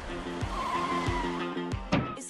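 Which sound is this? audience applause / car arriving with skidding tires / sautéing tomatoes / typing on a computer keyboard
car arriving with skidding tires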